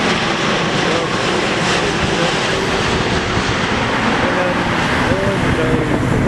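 A Hainan Airlines airliner arriving at O'Hare roars overhead in a loud, continuous broadband engine rumble that stays steady throughout, with a voice talking faintly beneath it.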